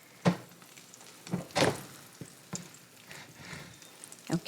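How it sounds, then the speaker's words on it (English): A breaded chicken cutlet fries in a pan, giving a faint, quiet sizzle with scattered crackling pops spaced a second or so apart. "Now you can hear that sizzle."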